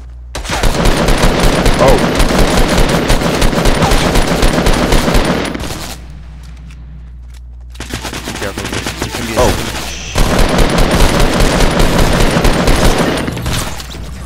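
Rapid assault rifle fire in the Fortnite battle royale game, long loud bursts with a pause in the middle, and a player talking briefly between volleys.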